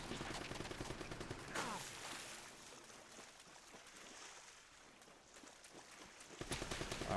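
Turret gunfire from Uncharted: Drake's Fortune rattles off in rapid, fairly faint bursts throughout, heaviest at the start and again at the end, with ambient game sound between.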